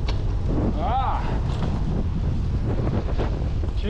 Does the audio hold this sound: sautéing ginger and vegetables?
no